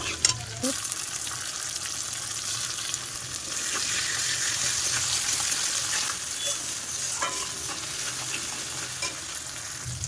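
Onion, garlic, dried chili and cumin frying in hot oil give a steady, close crackling sizzle with occasional stirring scrapes, running throughout.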